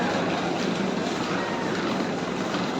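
A train from Agartala to Sealdah rumbles steadily nearby, a constant broadband roar with no clear breaks and no voices.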